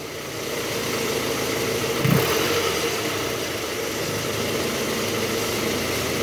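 A Toyota Harrier with a 2AZ engine runs steadily with a constant mid-pitched drone heard up close, a brief rise around two seconds in, then settles back to an even hum with no talking.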